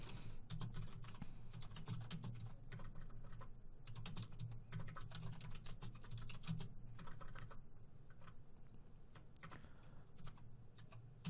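Rapid, continuous typing on a computer keyboard while a Word file is being written, dense clicking keystrokes steady and close throughout with no speech.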